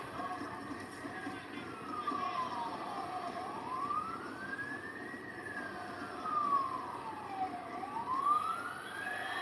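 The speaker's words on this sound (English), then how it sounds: "That's definitely not my siren. Coming from the back." An emergency vehicle siren wails outside a football stadium, its rising and falling tone sweeping slowly in long cycles, distant and faint beneath a steady background murmur.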